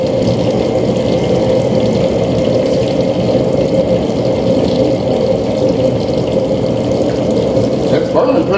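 A homemade no-weld waste oil burner fed with new oil burns with a loud, steady, rushing roar that continues without a break for several seconds.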